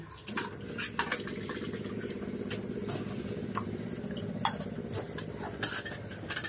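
Water runs while items are rinsed and handled in a kitchen sink, with steady splashing under frequent light clinks and knocks of utensils and dishes, close and fairly quiet.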